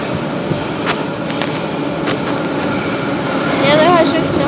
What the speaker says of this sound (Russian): Я нахожусь на станции Чкаловская, Люблинско-Дмитровской линии метро